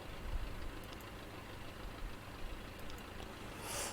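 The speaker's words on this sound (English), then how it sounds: "I'm gonna shut the engine down." A small airplane engine idles steadily in the cockpit just before shutdown, a continuous low rumble with a slight rise in level near the end and no talk over it.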